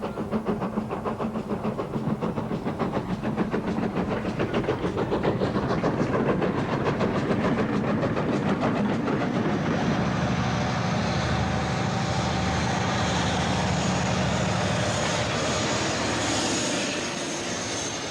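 A heavy steam train rumbles continuously nearby, a loud, steady roar of engine and wheels on rails with no voices.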